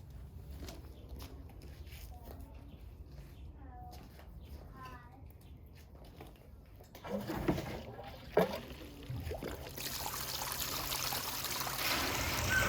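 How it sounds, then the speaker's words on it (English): Water runs steadily through a gold panning sluice outdoors, a constant rushing flow that grows louder and brighter toward the end, with a couple of louder splashes midway. "All right, we got the sluice up and running."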